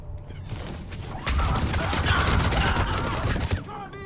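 A turret in the Mass Effect 3 co-op video game fires a sustained, dense stream of gunfire lasting a few seconds, loud and close, then cuts off abruptly.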